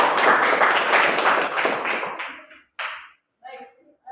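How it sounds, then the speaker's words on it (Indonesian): A classroom of students claps together in a religious education lesson: dense, fairly loud clapping for a couple of seconds that quickly fades, then the teacher starts speaking. "tepuk tangan semuanya"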